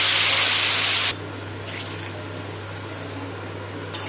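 Water runs from a tap into a plate holding leftover salt, turmeric and oil, a loud close splashing gush for about a second, then cuts off to quiet room noise with faint trickles.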